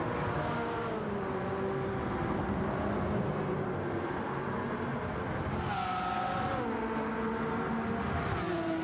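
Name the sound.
Ferrari Enzo engine noise in Gran Turismo 7 video game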